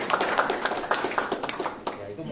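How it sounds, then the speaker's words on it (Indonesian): Clapping from an audience at a community mentoring session in Surabaya, a run of sharp, fairly even hand claps carrying on steadily for a couple of seconds at moderate loudness, with speech heard faintly in the background. "Ya, tepuk tangan dulu."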